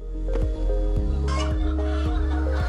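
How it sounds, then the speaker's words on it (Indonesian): Chickens cluck inside a special coop on a small farm where about 300 birds are raised. Repeated close clucks and short calls sound over a steady low hum. "Sekitar 300 ekor ayam bantuan dari Muhammadiyah dibudidayakan di dalam kandang khusus."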